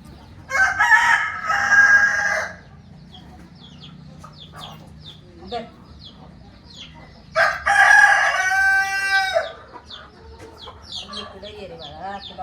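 Village hens clucking and a rooster crowing twice loudly nearby, with soft clucks and chatter between the crows and faint talk in the background.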